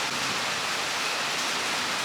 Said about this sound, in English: Well, it's raining out here.